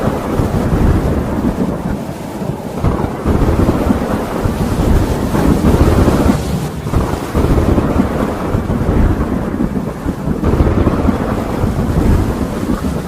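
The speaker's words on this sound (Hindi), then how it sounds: "अचानक काले बादल छा गए और तेज बारिश शुरू हो गई" Heavy rain pours steadily with rolling thunder and gusty wind, a loud, continuous storm wash filling the whole stretch at night, with no voices.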